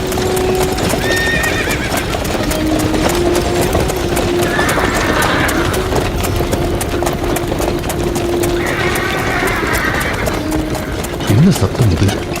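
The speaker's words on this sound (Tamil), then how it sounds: "குதிரையின் களைப்பொழியும் ரதம் ஓடும் சத்தமும் செவியை பிளக்கிறதே" Galloping horses pull a chariot in a Mahabharata drama scene, with dense, continuous clip-clop of hooves and rumbling wheels, loud and close, while several horses whinny over the din.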